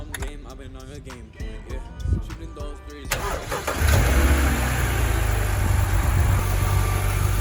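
A BMW E90 is cranked after a breather hose replacement, a few seconds of starter whirring followed by the engine catching and settling into a loud, steady idle close by, with someone speaking briefly at the start.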